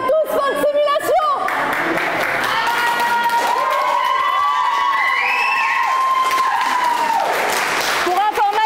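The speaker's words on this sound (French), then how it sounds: "L'exercice de simulation, qui aura pris près de 3 heures, s'achève sous les applaudissements." Group applause and cheering at the close of a nearly three-hour multi-victim attack emergency simulation exercise, a sustained crowd wash with voices and a tonal whistle-like sound over it, steady and fairly loud.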